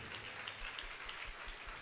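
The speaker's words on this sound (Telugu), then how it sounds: "చప్పట్లు కొట్టి ప్రభువుని గణపరుద్దాం" A church congregation claps together in praise, a soft, distant patter of many hands that stays even and faint throughout.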